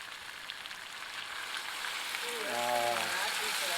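Pork chops sizzle in a hot pan right after a splash of wine, a dense steady hiss that swells toward the end while a voice talks briefly over it.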